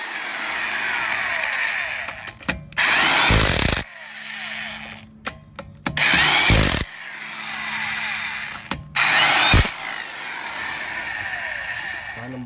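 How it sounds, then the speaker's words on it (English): An impact wrench tightens the wheel bolts on a 2010 Ford Edge, firing in three loud, harsh bursts of about a second each, separated by a steady mechanical whine and clatter from a nearby engine or tool. "I have it on light, so if you have an impact wrench,"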